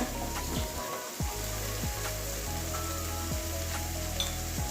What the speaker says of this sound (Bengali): এবারে ভালো করে কষাতে হবে যতক্ষণ মশলাটা ফুটছে না ততক্ষণ কষাবো